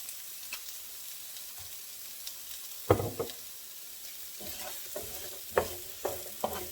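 Pork chops searing in olive oil in a pan, a quiet steady sizzle broken by scattered sharp scraping and tapping knocks.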